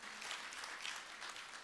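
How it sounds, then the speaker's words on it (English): Faint, steady applause from an audience at a keynote session fills the short stretch, an even patter of many hands clapping at a distance with no voices over it. "A big round of applause for Dr."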